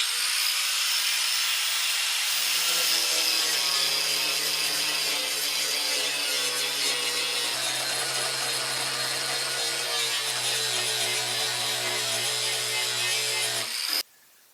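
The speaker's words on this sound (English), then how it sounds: "we're basically just going to use the flapper disc to basically cut down the spot welds" A flap disc grinds down spot welds on car seat rails, a steady, loud, continuous abrasive rasp with a droning motor hum that holds for about fourteen seconds before cutting off abruptly.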